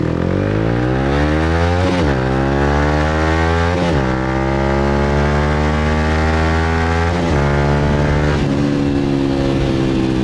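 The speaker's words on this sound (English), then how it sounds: "We can kind of do some throttling here." A motorcycle on Saigon streets revs hard and accelerates, its engine note climbing steadily through several gear shifts marked by brief dips, loud and close throughout with no voices.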